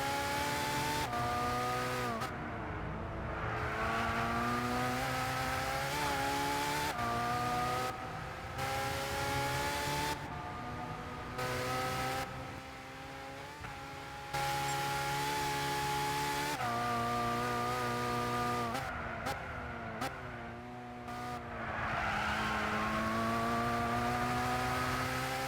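Nissan GT-R race car engine in the video game Gran Turismo 6, revving hard and continuously for the whole stretch, with rising and falling pitch through gear shifts and brief lifts.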